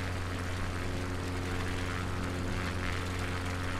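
Constant droning engine of a small aircraft in flight over Balmoral, heard from inside, with steady low humming tones and no voices.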